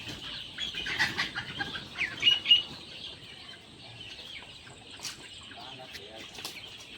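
A flock of small chicks cheeps continuously in thin, high-pitched chirps, with faint voices murmuring in the background.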